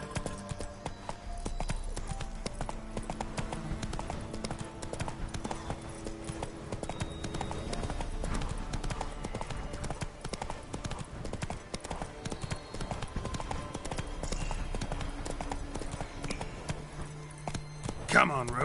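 Roach, a horse in a video game, clip-clops along with steady hoofbeats that continue under music and scattered game sounds.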